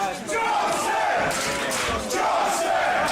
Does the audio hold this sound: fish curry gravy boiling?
no